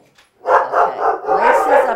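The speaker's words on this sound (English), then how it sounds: "Now he's over there in the window barking." An Australian Cattle Dog mix barks repeatedly in quick bursts from a window, fairly close and loud, with a brief pause before the barking starts.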